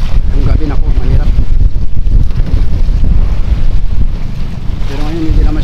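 Steady wind roaring across a microphone out at sea off Baler during a storm, with a boat's rumble and waves beneath; a voice briefly speaks near the end.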